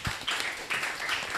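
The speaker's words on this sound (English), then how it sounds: "Please round of applause again." Brief burst of audience applause closing an international seminar session, a few seconds of scattered hand claps heard at moderate distance.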